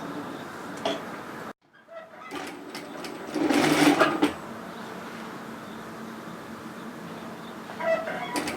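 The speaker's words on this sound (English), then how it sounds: "we're going to stitch the back hemline exactly the same we did for the front" A sewing machine stitches the back hem of a knit one-shoulder sweater in a steady close whir, with a brief pause near the start and a louder, faster burst in the middle.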